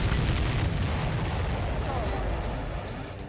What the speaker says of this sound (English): Missile hit.